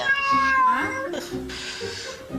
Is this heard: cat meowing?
yes